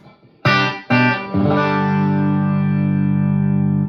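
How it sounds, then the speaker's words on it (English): Electric guitar chords strummed through a Sir PT15 tube amplifier on the clean channel with a tube overdrive pedal, two short stabs followed by a long sustained chord that rings out with a warm, slightly driven tone. "the amp I'm playing through is a Sir PT15 on the clean channel"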